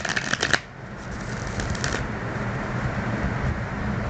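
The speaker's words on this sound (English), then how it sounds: "We're going to shuffle and try one more time." A quick riffling flutter of tarot cards being shuffled, followed by softer scattered card taps and handling noises against a low background hum.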